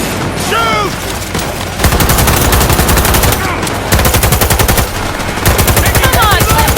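Rapid automatic gunfire crackles in loud bursts of machine-gun fire during a Cyberpunk 2077 firefight, separated by short pauses, with brief game voices in between.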